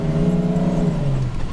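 A car engine pulls under added throttle while driving, a steady deep-throated motor drone with a falling pitch near the end as the revs ease.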